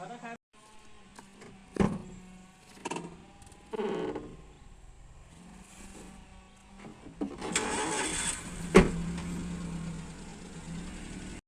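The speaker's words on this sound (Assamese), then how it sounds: "এতিয়া আমি গাড়ীত উঠিলোঁ" A car's engine turns over and settles into a low idle, with door thumps and cabin movement around it and a louder burst of engine noise near the end.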